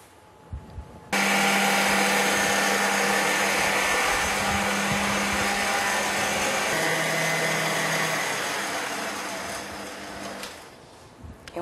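An electric stand mixer whirs while beating cookie dough, a steady loud motor hum that starts abruptly, holds for about nine seconds with slight shifts in pitch, then winds down and stops.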